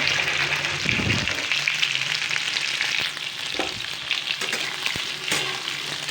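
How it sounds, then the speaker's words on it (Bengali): Potatoes and pointed gourd (potol) fry in oil in a pan, giving a loud, continuous close sizzle with occasional stirring scrapes and knocks. "পটল আলু দুটোকে এবার ভালো করে সোনালি আকারের করে ফ্রাই করে নিতে হবে"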